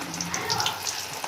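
French fries are dropped into very hot oil over a high flame, producing a dense, close, continuous crackling sizzle with bubbling pops throughout.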